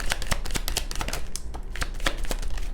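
Tarot cards shuffled by hand, a dense close riffle of papery flicks and snaps lasting a few seconds without talk.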